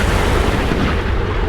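A cruise missile strikes a ship in the naval warfare game Sea Power, giving a loud, dense, rumbling blast that fills the short clip without a break.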